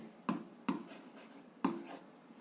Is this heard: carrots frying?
no